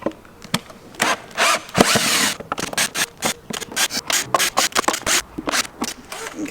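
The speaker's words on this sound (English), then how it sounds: "Let's get these screws out" Power tool driving screws out of a wooden subwoofer box built for a Jaguar XKR, short whirring bursts and scraping pulses in an irregular rhythm, close and fairly loud, with no talking.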